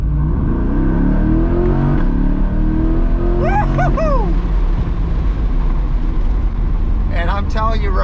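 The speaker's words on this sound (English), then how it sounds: "And there's not a single bad sound from this exhaust." A modified exhaust on a C8 Corvette rumbles loudly close by as the engine revs. Sharp rising and falling whoops break through twice over the steady low drone.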